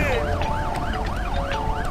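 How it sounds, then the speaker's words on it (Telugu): An ambulance siren wails in a Telugu film scene, a loud, continuous up-and-down sweep repeating in an even rhythm. It sounds close and steady, with no voices over it. "అంబులెన్స్ వస్తోంది."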